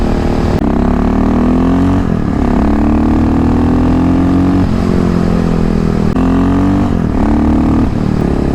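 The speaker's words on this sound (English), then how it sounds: "This is the LC4 engine." A loud KTM 625 SMC single-cylinder LC4 motorcycle engine roars close by while riding, its pitch climbing through gears with brief dips at each shift.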